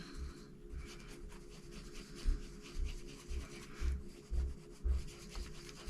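Wet brush rubbing and dabbing Derwent Inktense colour across paper, a soft scrubbing swish repeating in short strokes roughly every half second, close and quiet with no talk.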